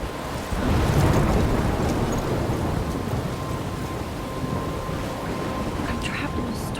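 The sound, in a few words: thunderstorm from the video game Life Is Strange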